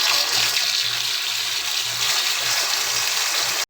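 Chicken leg pieces are washed under a running tap, giving a loud, close, steady gush of water that continues unbroken and stops abruptly at the very end.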